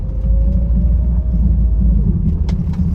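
A car rolls onto a rough road toward Binganam Island, its low engine rumble and tyre noise steady and close throughout, with a few faint knocks near the end.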